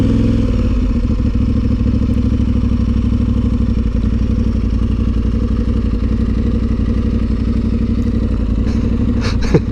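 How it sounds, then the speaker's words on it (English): Honda CL500 motorcycle being ridden, a loud, continuous mid-pitched engine rumble with steady wind noise and a few small clatters near the end. "There he is there on his little Honda CL500."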